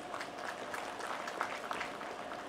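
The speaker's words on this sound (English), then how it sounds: "let's welcome him with a huge round of applause" Clapping from an audience at the inauguration of a film trade expo, greeting a keynote speaker. It is quiet and distant, a steady patter of many hands with a few sharper claps standing out.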